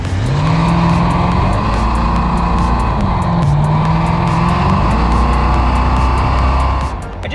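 A Ford Crown Victoria driven on a race track, its engine close and loud, droning steadily and rising and falling in pitch as it powers out of corners, with no talk.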